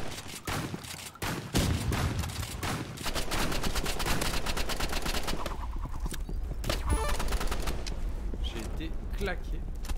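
Rapid shotgun fire in the Roblox Rivals video game, with a dense run of sharp, loud blasts across the whole stretch. A player keeps talking over the shots.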